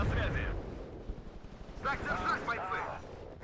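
IS-2 tank guns fire in the real-time strategy game WARNO, heard as low booming bursts of gunfire with some voice-like chatter mixed in partway through.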